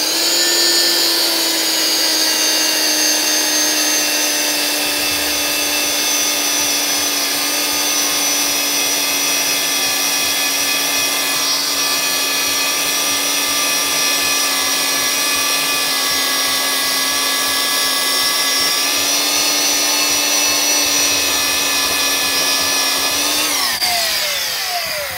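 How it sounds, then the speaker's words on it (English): A bandsaw fitted with a fresh blade runs steadily for about 25 seconds, a loud continuous whine with a low hum underneath and no talking, winding down near the end. "Put a new blade on my bandsaw here."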